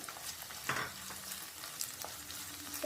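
Peeled garlic cloves and a slit green chili sautéing in oil for a tiny-fish (ayirai) curry, a soft steady sizzle with a couple of brief stirring scrapes, close and fairly quiet, no voices.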